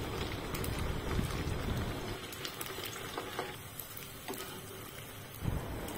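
Food frying in hot oil in a home kitchen until golden on both sides, a steady close sizzle with occasional stirring scrapes and no speech.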